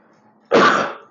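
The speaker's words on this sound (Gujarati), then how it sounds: "થોડી ખાંસી આવી રહી છે" A single close cough bursts out abruptly after a quiet stretch and fades over about half a second, loud and alone in a speaking setting.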